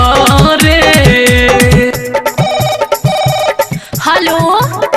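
A telephone ringtone, woven into the rhythm of a Bhojpuri song, rings out loud and steady over thumping beats and melody with no pause for more than a moment.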